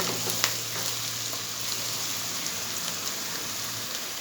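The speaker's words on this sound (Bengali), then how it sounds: "মেথি চিকেনে পেঁয়াজটা একটু লালচে করেই ভেজে নিতে হবে" Onions fry in a pan for masala chicken, a steady, fairly quiet sizzle with faint crackles running throughout and no one speaking.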